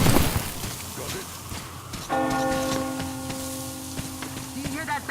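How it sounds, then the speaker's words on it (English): A single large bell in the Metro Exodus game is struck once and rings out with a long, sustained, humming tone over a rough, noisy game environment with voices in the background. "Do you hear that bell?"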